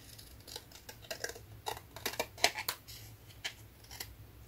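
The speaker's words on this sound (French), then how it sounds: "je vais plutôt le couper au ciseau" Scissors snip a small piece of card in a series of quiet, close, crisp cuts, about a dozen short clicks and snips at an uneven pace, with no talking.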